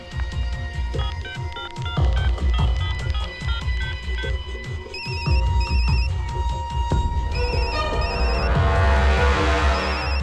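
A phone rings repeatedly with bright electronic ringtone tones, layered over busy music and background sound throughout.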